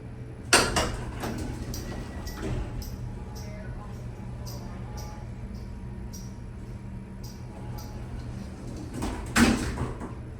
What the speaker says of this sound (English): I'm gonna let you hear that door operator sound.